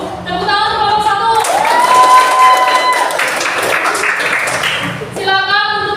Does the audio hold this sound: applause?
yes